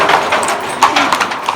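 Horse hooves clip-clop at the ancient site of Petra, Jordan, where tourists ride donkeys and horses in and out; several brisk, fairly close hoof strikes ring out in an irregular rhythm over light outdoor ambience.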